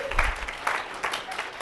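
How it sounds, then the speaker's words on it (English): Seminar audience clapping: a brief, moderately loud patter of applause from a room of people, fading within a couple of seconds. "I love when people clap at the price."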